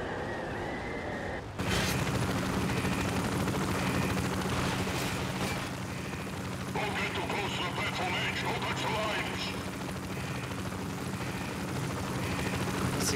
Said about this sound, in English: So they're trying to stop the helicopter from getting away because the guy's trying to abandon us.